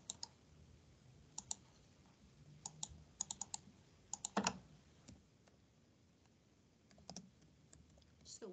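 Quiet typing on a computer keyboard during a class, scattered bursts of light clicks with pauses between them and one louder clatter, heard close in a hushed room.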